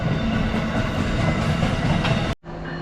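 A loud, rushing roar of a fast Amtrak passenger train passing close by, with rhythmic rail clatter, cut off abruptly near the end.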